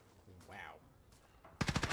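Rapid gunfire bursts in Call of Duty Modern Warfare, a loud automatic volley closing the stretch after quieter in-game sounds and brief voice fragments.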